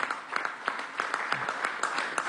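Crowd applause at an outdoor Venezuelan government housing ceremony, a dense wash of many hands clapping steadily with sharp individual claps standing out, moderately loud and continuous throughout.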